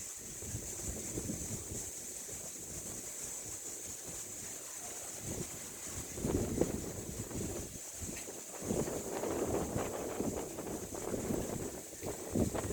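Wind near Anchuruli Dam in Idukki buffets and rumbles against the microphone in uneven gusts, with a steady high hiss in the background.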